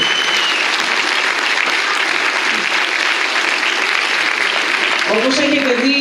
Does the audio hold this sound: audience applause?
yes